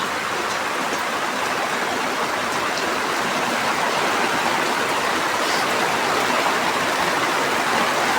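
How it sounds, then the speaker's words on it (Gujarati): Heavy rain pours down in a dense, continuous hiss, loud and steady throughout with no voices. "વરસાદ વરાયો બાપ જોરદારનો"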